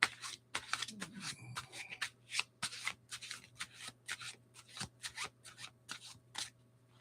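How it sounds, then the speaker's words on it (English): Tarot cards being shuffled by hand at a reading table, a steady series of crisp riffling bursts repeating roughly every half second, fairly close, with a low steady hum beneath and no talking. "Let me shuffle this."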